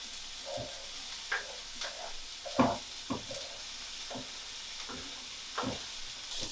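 Onions frying in a pan, a soft continuous sizzle broken by occasional louder crackles and stirring scrapes, close and fairly quiet.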